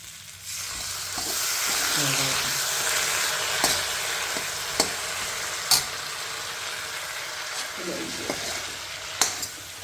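A pea pickle mixture with jaggery and vinegar is stirred in a pan, a steady sizzle with a spoon scraping and clinking against the metal now and then, close and even, no voices.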